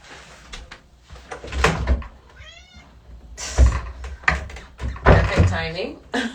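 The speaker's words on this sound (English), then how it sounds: "I got to let my cat in." A pet cat meows loudly nearby as a door is opened and it is let inside, with clunks and rattles of the door mixed between a person's speech and several distinct rising meows.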